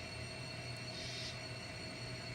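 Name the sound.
model coal train running on layout siding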